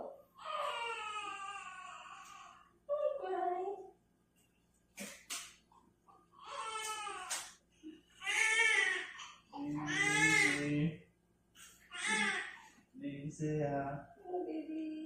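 A newborn cries moments after a normal hospital delivery, giving repeated wailing, sobbing bursts up close with short gaps between, while adults speak quietly nearby.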